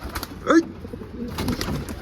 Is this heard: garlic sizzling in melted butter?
no